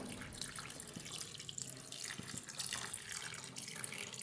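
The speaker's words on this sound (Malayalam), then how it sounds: "ചൂടുവെള്ളം ചേർത്ത് കൊടുക്കാം." Hot water is poured into a cooking pot of squid being made into a Kerala-style roast, giving a quiet, continuous splashing trickle that stays fairly even throughout, with no talking.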